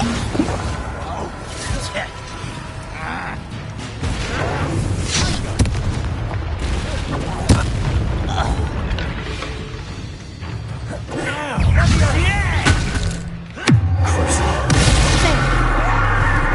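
Confringo and Bombarda spell blasts in the Hogwarts Legacy video game, a dense run of booming, crackling impacts and bursts under constant game noise, with a loud blast near the end and talk over it.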